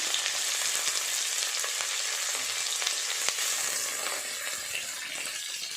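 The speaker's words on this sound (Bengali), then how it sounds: "আমি কিছু সবজি নিয়েছি চিড়ের পোলাও দেওয়ার জন্য প্রথমে ভাজব" Cauliflower fries in oil and ghee for a vegetable chire pulao, a steady bright sizzle and crackle close by with faint occasional clinks, no voices.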